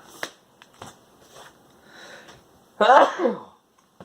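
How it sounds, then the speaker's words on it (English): Faint sniffs and small clicks, then a single loud, close sneeze bursting out near the end before quiet returns. "That was a sneeze."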